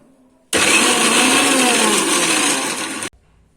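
A kitchen blender grinds green peas into a paste for kachori filling, a loud, steady whirring roar that starts abruptly, holds for about two and a half seconds, then cuts off sharply, with no voices.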